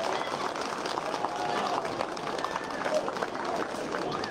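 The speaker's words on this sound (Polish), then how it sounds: "Wielkie brawa" An audience applauds a wind orchestra at a brass band festival, a steady wash of many hands clapping at moderate distance with a voice speaking over it.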